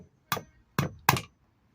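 Hammer striking a seal to drive it out, three sharp metallic blows, close and evenly spaced, with no voices.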